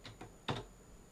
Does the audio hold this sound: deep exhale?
no